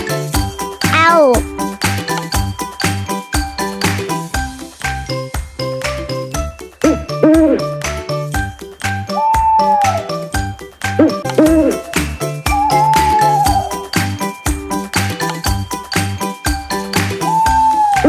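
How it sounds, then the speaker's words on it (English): An owl hoots several times in drawn-out calls, heard clearly over steady upbeat music with a regular beat. "Owl."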